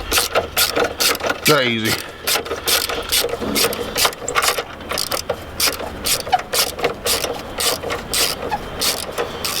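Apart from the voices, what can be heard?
Makita screwdriver driving a screw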